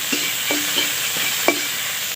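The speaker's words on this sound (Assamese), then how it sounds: "এখানি অলপ লৰাই পেলাই ভাজিম" Food sizzles steadily in a hot pan while a utensil scrapes and stirs a few times, close up, with no voices.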